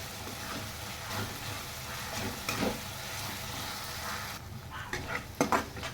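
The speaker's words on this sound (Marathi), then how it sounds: "आता कांदा टोमॅटो छान भाजला गेला" Onion and tomato fry together in a pan for beetroot pulao, giving a steady close-up sizzle with occasional stirring scrapes near the end.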